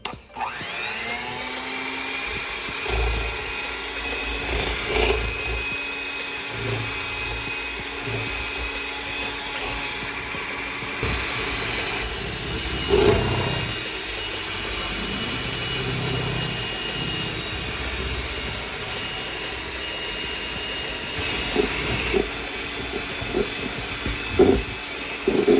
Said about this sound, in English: we're going to go ahead and start whipping the cream